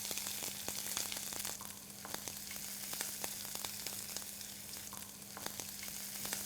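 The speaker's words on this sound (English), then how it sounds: "Just saute this for a few seconds." Ginger paste and garlic paste sautéing in a pan for South Indian drumstick curry, a steady close sizzle with scattered crackles and pops, no voices.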